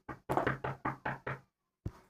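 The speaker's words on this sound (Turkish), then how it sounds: "Kızım kapı çalıyor." Knuckles rap on a door in a quick series of six firm knocks, close and loud, then a short pause before one more knock.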